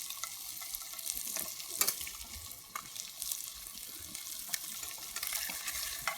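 Fish frying in a pan at an outdoor cooking camp, a steady sizzle with watery crackle and scattered scraping and stirring knocks, close by and without speech.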